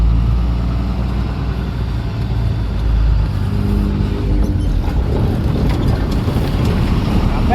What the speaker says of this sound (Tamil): இப்போ கண்டெய்னர் இல்லாதால இந்த கட்டிங்லேயே யூட்டர்ன் போட்டுக்கலாம்